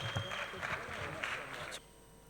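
An audience applauding at a tech presentation event, a dense patter of clapping that holds for under two seconds and then cuts off abruptly.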